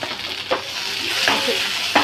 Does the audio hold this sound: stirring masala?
yes